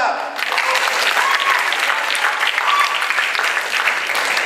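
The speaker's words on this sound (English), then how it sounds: "Big clap for Oscar!" An indoor audience claps for a boy named Oscar during a classroom lesson on plays and Macbeth, a dense burst of applause that stays steady and fairly loud throughout, with faint voices mixed in.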